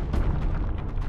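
Sustained artillery-like gunfire and booming blasts from the PC strategy game Warhammer 40,000: Dawn of War II Chaos Rising, a dense, loud, continuous barrage with repeated low thumps and bursts throughout.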